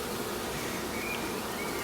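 Honey bees buzz around a single brood frame at the hive, a faint steady hum with no voices.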